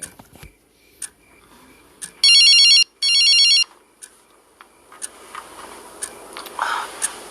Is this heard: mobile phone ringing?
yes